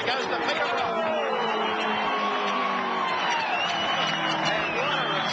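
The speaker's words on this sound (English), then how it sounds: "And what a reception from the crowd." Large motor-racing crowd at Bathurst in 1982 cheering and whooping in a steady roar of chatter and applause as Peter Brock wins the James Hardie 1000, continuous and loud throughout.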